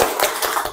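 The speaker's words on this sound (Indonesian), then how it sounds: "Ini tepuk dulu buat kita semuanya." A classroom group claps together in a short, dense burst of overlapping hand claps, close and fairly loud, with faint rhythmic peaks running through it.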